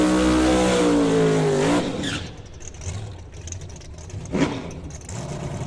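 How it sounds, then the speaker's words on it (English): A drag racing car does a burnout at a drag strip, its loud engine roaring steadily with rising revving harmonics for nearly two seconds before cutting off, followed by quieter track ambience and a distant rumble. "He's doing his burnout"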